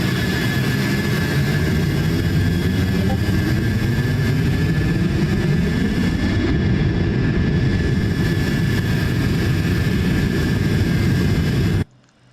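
Steady, loud roar of MD-83 jet engines heard from outside the aircraft in Microsoft Flight Simulator 2024, a continuous broadband drone with a rising whine that runs unbroken for about twelve seconds, then cuts off abruptly.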